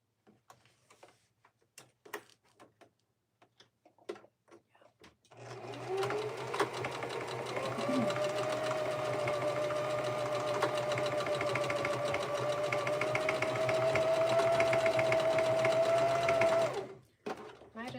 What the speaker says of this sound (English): So we're gonna sew the straps on.